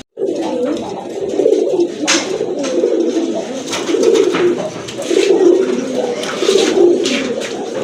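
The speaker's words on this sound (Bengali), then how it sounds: "এটা গররা কবুতর, আকাশি গররা" Sky-blue Gola pigeons coo in a steady, repeating rhythm, their soft, low throaty calls rising and falling in overlapping waves from several birds close by, with brief sharper flutters and shuffles above them.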